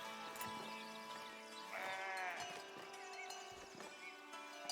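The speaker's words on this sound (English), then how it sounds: "we have some sheep running about there" Sheep bleating in the village-building game Foundation, a clear wavering bleat near the middle over soft ambient game music and light clip-clop knocks, no talk.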